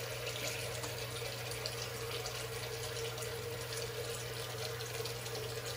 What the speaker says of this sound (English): Rinsing here in between the passes.